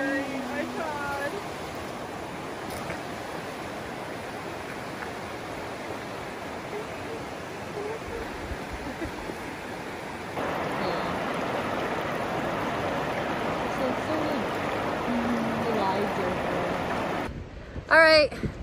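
Creek water flows steadily at a campsite, a soft constant rushing that fills the whole clip, slightly louder in the second half, with a brief clatter near the end.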